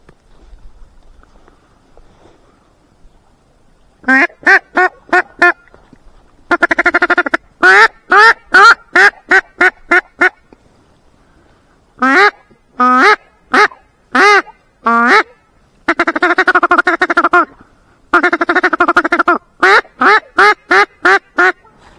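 Ducks quack loudly in repeated bursts of rapid calls, separated by short silences, close and clear with no talking.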